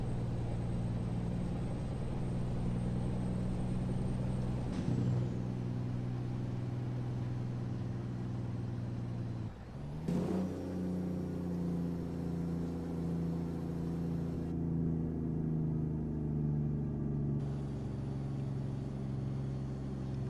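Sustained low, droning rumble of a truck engine under Jake braking in American Truck Simulator, steady and close, with a brief dip and shift in tone partway through before the drone resumes.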